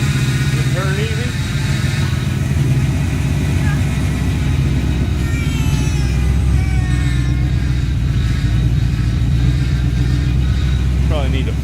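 A 1955 Chevy truck engine that had been sitting a long time runs steadily at idle, a loud continuous low rumble with a rough mechanical chatter, while people talk over it.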